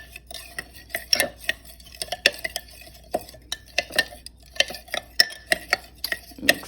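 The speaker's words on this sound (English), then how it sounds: "Mix it all in there." A spoon stirs rosemary, hibiscus and fenugreek seeds in a pot of hair oil, giving close, irregular clinks and taps against the metal with soft swishing between them.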